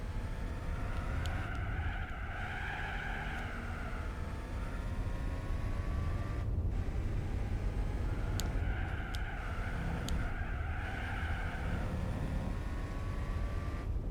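A powerful car in the video game Gran Turismo 4 drives steadily with a constant engine drone, its tone rising and falling through gear changes, with faint tyre squeal and no talking.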